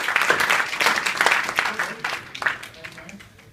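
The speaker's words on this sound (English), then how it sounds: "Give yourselves a round of applause." A crowd at a motivational speaking event applauds the end of a talk: close, lively clapping that thins out and fades over a few seconds.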